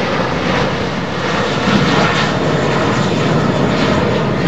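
Airbus Beluga cargo jet passing over Heathrow Airport, its engines a steady, loud, broadband roar that holds throughout with no voices.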